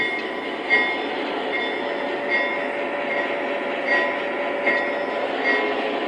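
A Lionel Legacy GP7/GP9 model diesel locomotive hums with a steady engine drone that revs gently. Faint rhythmic clicks repeat about every second and a half, and there is no talking.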